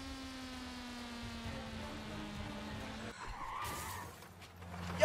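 Car in a Baldi driving animation speeding with a steady engine drone, then a sudden rough tire skid partway through, scraping and squealing before fading out, fairly faint overall.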